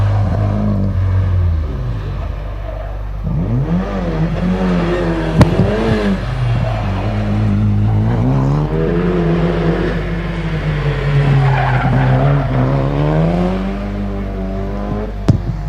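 An Audi A4 races up a hillclimb course at the Legend of the Lakes event, its engine loud and close as it revs hard, rising and falling in pitch through repeated gear changes, with a commentator talking at times.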